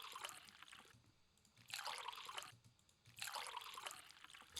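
Liquid pouring sound effect processed with an enhance setting, bright splashing trickles in two sustained bursts separated by quiet pauses.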